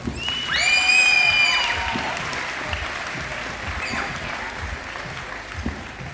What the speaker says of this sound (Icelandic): Við skulum gefa Brynrúnu gott klapp.